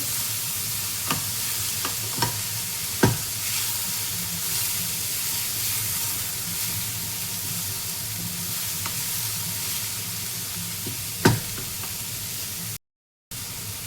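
Capsicum being stirred into momo filling frying in a pan, a steady loud sizzle with occasional sharp scrapes and knocks of the spoon against the pan, without speech.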